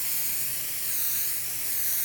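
A can of spray adhesive hisses steadily as it is swept back and forth over quilt batting, a continuous close, loud spray with no talking.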